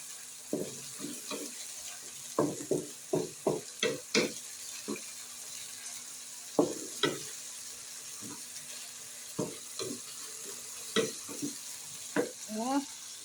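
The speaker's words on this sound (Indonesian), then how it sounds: "Aduk-aduk." Tilapia stir-fry with chili being stirred in a pan after water is added, giving repeated scraping and clattering strokes in short bursts with gaps, fairly close and moderately loud, with no talking.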